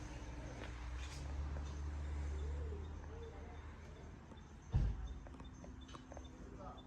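Garden birds call softly at a distance in an outdoor garden setting, with a steady low hum underneath and a single sharp knock partway through.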